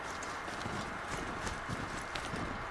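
Horse hooves clip-clopping steadily in the video game Horizon Zero Dawn, a fast, even trot of hoof beats over a dense, loud bed of game ambience.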